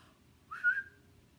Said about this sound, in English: ooh, can you whistle? That's pretty hard.